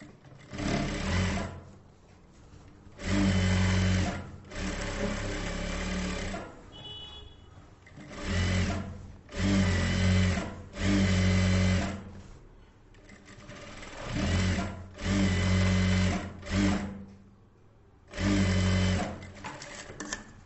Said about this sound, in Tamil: இந்த ஓரத்தில் எஜ்ஜு தையல் போடுறேன்.